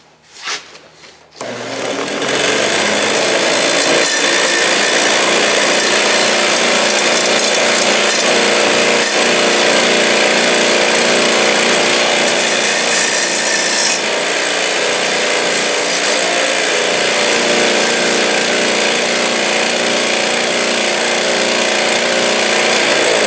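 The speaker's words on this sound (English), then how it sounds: "We'll get the burrs off and we will grind our corners round." A homemade eyelet-style battery cable terminal is ground to remove burrs and round its corners. A power grinder starts after a brief pause and runs as a loud, steady abrasive whine for the rest of the clip.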